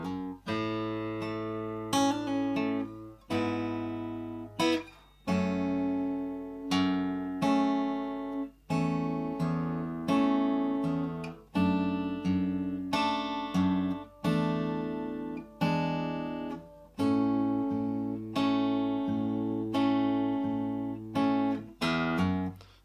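An acoustic guitar plays the intro of a song slowly and cleanly, with picked notes and chords ringing out in a steady, gentle rhythm, close and alone.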